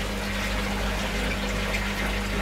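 Clean water gushes and pours into a koi tank, a loud, continuous rushing wash with a faint steady hum beneath it, no voices.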